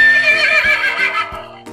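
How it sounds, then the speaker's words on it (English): A baby horse, a foal, gives a single loud, close whinny, a quavering neigh lasting under two seconds with a faint hoof knock near the end. "Then we have a baby horse."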